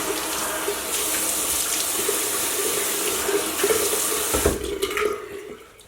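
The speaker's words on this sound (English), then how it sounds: "what you'll do is just wet your face with warm water." Warm tap water runs steadily into a sink for several seconds before a shave, a constant splashing hiss with small changes as hands move under the stream, then stops near the end.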